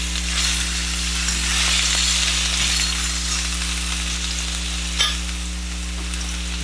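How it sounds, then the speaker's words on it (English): Chopped garlic frying in olive oil in a pan gives a steady, loud, close sizzle that runs throughout, with one brief louder crackle near the end. "First, I'm going to put in some chopped garlic."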